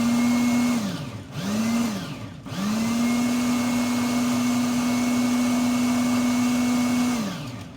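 A food processor pulses salsa spiked with hot sauce: two short motor bursts that spin up and drop off, then one long steady whirring run that winds down, loud and close with no talking.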